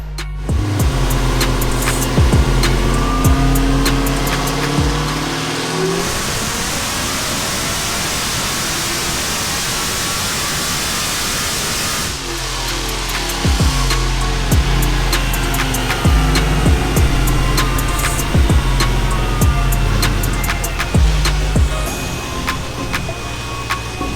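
A supercharged Dodge Hellcat with a 4.5L Whipple supercharger drones loudly and continuously during dyno pulls, with a roaring, noisy texture rising and falling over time, punctuated by sharp clicks.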